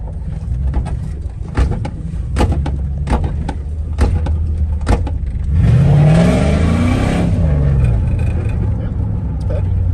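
A Chrysler 300 engine revs and pulls hard under acceleration, a rising roar that builds and swells near the end, with clicking and thumps early and people talking throughout.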